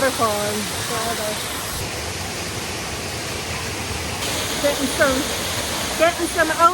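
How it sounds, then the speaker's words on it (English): Broad, steady rush of a busy waterfall, close enough for overspray, fills the air with constant white-noise roar while faint voices and brief tonal chirps rise above it. "I haven't seen a waterfall in forever."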